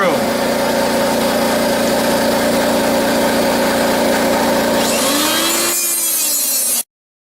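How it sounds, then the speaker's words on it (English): A cutoff wheel whines loudly and steadily, shearing rivet heads off a Chevy Silverado K2500 ball joint, its pitch sweeping up as it spins down near the end before cutting out. "What you also can use is a cutoff wheel like this. Shear them off"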